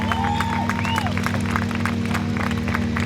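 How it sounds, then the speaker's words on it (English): Audience applauding rally drivers Tomas Falvey and Dave Egan at a drift championship event, steady dense clapping and some cheering over a constant low engine-like hum, with faint tonal sweeps mixed in. "we're going to get you to give them a round of applause as soon as they get out"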